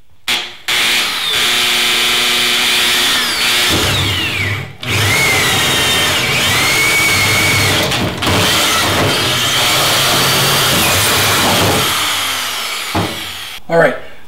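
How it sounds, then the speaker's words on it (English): A power drill whirs loudly up close in several long runs, boring an inch-and-a-half hole in an old freezer, stopping briefly between them, with its pitch shifting as it bores. "I'm going to drill an inch and a half hole"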